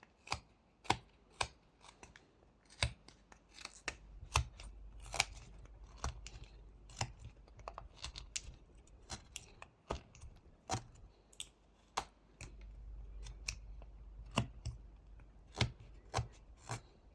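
A knife carving a small wooden rabbit by hand, with sharp, distinct cutting clicks and scrapes coming at an uneven pace, close and fairly quiet, with no speech.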